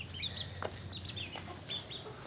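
Hens clucking softly nearby, a few short chirpy calls over a low outdoor background hum.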